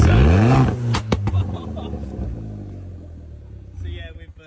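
Alfa Romeo race car engine revving with its exhaust blown off: a loud, raw rasping rev that rises then falls away to a rough idle, with a voice speaking partway through.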